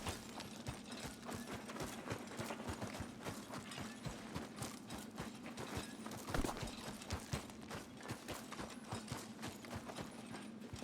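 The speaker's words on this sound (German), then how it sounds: "Aber zumindest ein Pferd habe ich jetzt." Horse hooves clip-clop steadily in Red Dead Redemption 2, a continuous rhythmic trot of moderate loudness with a brief louder knock midway, no talk over it.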